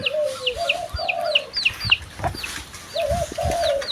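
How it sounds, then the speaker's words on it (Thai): Nearby rooster crowing in a bird camp, with a few drawn-out crows over a busy background of chirping birds and soft clucks, fairly close and clear with no talk. "เริ่มได้ยินเสียงขันนะครับ"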